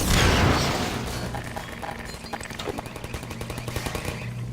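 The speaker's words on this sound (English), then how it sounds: "Oh, it was a turret." Automated turret fire during an ambush at the White Forest Inn in Half-Life 2: Episode Two, a loud burst of shots opening into sustained rapid mechanical firing with repeated pops and distant booms, and no voices.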